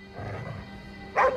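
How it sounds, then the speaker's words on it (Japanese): A single short dog bark from the video game GhostWire: Tokyo rings out near the end, over a low, steady game ambience. "何に向かって吠えてるんだ？"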